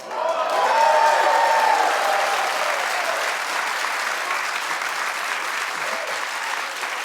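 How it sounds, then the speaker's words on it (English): A studio audience at a daytime talk show claps loudly and steadily, a dense sustained wave of applause that peaks early and then holds, with some whoops and a voice heard faintly over it. "Keep clapping."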